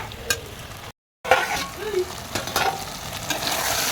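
Boiled, cut taro root frying in oil in a covered pan, a steady close sizzle with scraping stirs, a brief dropout near the one-second mark, then louder crackling bursts.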